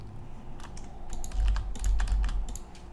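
Fingers type on a computer keyboard, entering text into a web form. Crisp key clicks come in quick irregular bursts over a low background hum.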